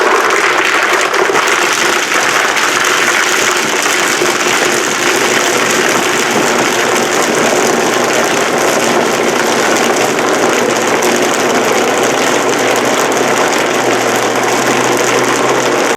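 A Vitamix blender running at high power on a frozen fruit smoothie with kale and microgreens, a steady loud broadband roar that holds without pause from start to finish, with no talk over it.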